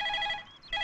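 A telephone rings with a bright electronic trill, a brief tonal burst that dips and resumes, heard alone.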